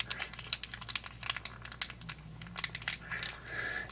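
Plastic lollipop packaging from a Make It Mini mini-verse spring unboxing being torn open, close crinkling and crackling in quick irregular bursts, with no one speaking.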